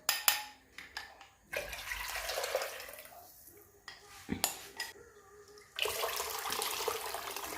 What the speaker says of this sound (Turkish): Soğuk su kullanıyorum. Şu anda 2 litreye yakın su koydum.